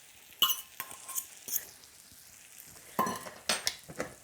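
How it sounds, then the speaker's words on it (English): Onions and bacon sizzle quietly in a pan, broken by several sharp clinks and scrapes as the food is stirred and tossed with a utensil. "Then I'm going to get the onions and the bacon back in the pan."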